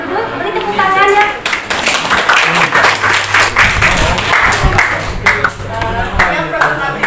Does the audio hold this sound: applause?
yes